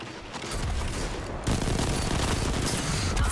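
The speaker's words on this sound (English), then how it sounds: "This auto rifle actually did a lot of damage right there." Auto rifle gunfire in Destiny 2 multiplayer plays as a dense, continuous rattle of rapid shots, loud and steady throughout with no pauses.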